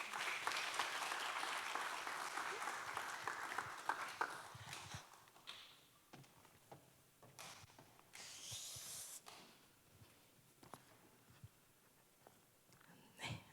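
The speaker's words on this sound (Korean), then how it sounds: "박수 부탁드립니다." A conference audience at a church family event claps to welcome the next speaker: a full round of applause at first, thinning to scattered, fading claps and quiet rustling.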